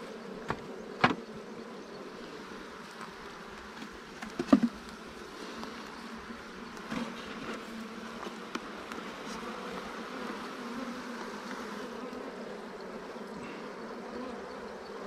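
Honeybees buzz continuously at low volume during a hive inspection for queen rearing and mating. A few soft bumps and taps break through the droning hum, and no voices are heard.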